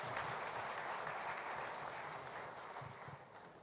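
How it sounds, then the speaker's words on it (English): Faint, steady applause from a seminar audience honoring the Zoho team at an award presentation, a continuous wash of clapping heard from a distance without speech. "Big round of applause to Zoho team."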